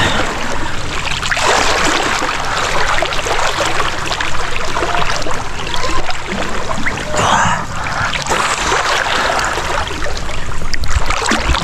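A strong river current rushes steadily with a loud, broadband watery roar that stays constant throughout, with no voices over it.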